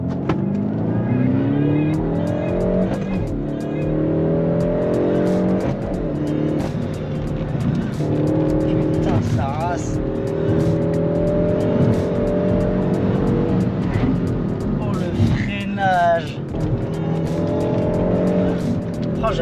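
A 270-horsepower Peugeot 308 GTI drives with a steady, loud engine drone that rises and falls through the gears, its rumble continuous throughout from inside the car.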